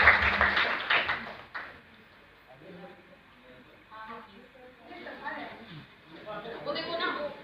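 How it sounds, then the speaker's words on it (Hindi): Applause rises at the opening to welcome Pooja on stage at a lucky-draw event in Varanasi, then fades into softer scattered clapping and crowd murmur with voices talking. "जोरदार तालियों के साथ पूजा का स्वागत किया जाए"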